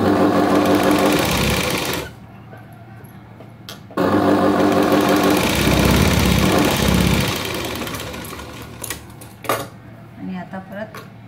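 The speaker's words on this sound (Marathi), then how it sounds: "आता हे असं करायचं, याच्यावर किनारी शिलाई मारायची." A sewing machine runs loud and close while stitching a princess-cut blouse edge, in two long bursts of fast whirring separated by a short pause, then fading into softer handling clatter.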